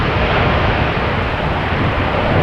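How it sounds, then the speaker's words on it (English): KLM Boeing 787-10 Dreamliner at Amsterdam Schiphol Airport, a steady broadband jet engine roar that holds at an even loudness throughout, with no talk. "This is KLM flight 757. Once again, it isn't a Boeing 757, it is a Boeing 787-10 Dreamliner."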